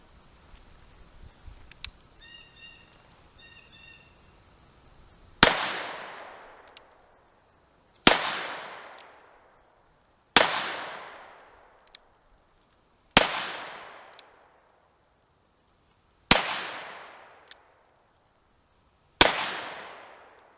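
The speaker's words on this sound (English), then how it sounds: "I believe that was the last shot, and that is correct" .38 revolver shots fired one at a time on a shooting range, six sharp loud cracks spaced a few seconds apart, each ringing out in a long decaying echo, after a few seconds of faint handling noise.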